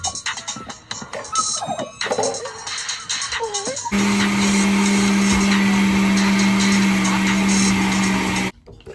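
A blender whirs loudly and steadily while blending baby food, kicking in after some handling clatter and running for several seconds before abruptly stopping, close by.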